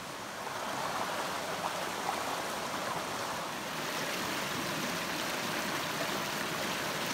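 New Hope Creek flows through forest in Orange and Durham County on its way to Jordan Lake, a steady, close rushing and trickling of water that runs unbroken throughout, with no voices.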